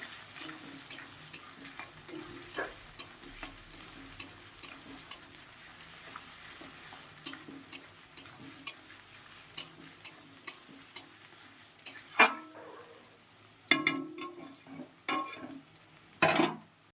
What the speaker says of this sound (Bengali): দেখো চিকেনটা রান্না করার জন্য দারচিনি লবঙ্গ ফোড়নে দিচ্ছি। পেঁয়াজ কুচি দিয়ে দিলাম।